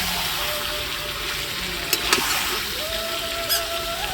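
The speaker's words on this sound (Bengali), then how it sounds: "আমি এরকম করে ভালো করে কষিয়ে নেব।" Meat sautéing and being stirred in a frying pan for a village-style dish, with a steady broad sizzle throughout and a few brief scraping clicks of the spoon near the middle and end.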